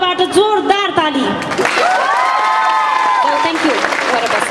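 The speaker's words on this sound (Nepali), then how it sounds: "सम्पूर्ण टिचर्सको नाममा बालबच्चाहरूको तर्फबाट जोरदार ताली" Audience applause at an earthquake relief concert for Himalayan children, a steady wash of clapping and some cheering running underneath loud, sustained tonal voices or music that dominate the foreground.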